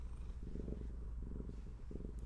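A cat purrs close up in soft, rhythmic low rumbling pulses, steady and quiet, with no talking over it.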